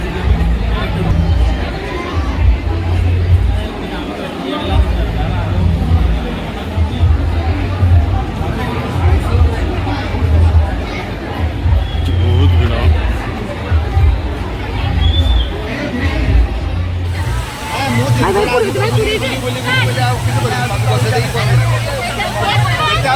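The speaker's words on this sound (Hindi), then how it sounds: "बहुत भीड़ है" Dense crowd babble fills a busy water park, many overlapping voices chattering and calling out continuously with a steady low rumble beneath, the hubbub growing brighter and louder toward the end.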